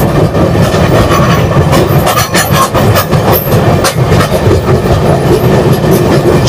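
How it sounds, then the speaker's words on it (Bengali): The 12278 Puri–Howrah Shatabdi Express speeds at about 120 km/h from Balasore toward Medinipur, heard as a loud, continuous close-up rumble with steady rhythmic clickety-clack of wheels over the rails and no voices. "খুব সুন্দর গতিময় ট্রেন, 120 কিলোমিটার বেগে এই ট্রেনটা ছুটে চলেছে"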